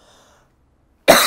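After a moment of near silence, a person lets out one sudden, loud cough close to the microphone right at the end.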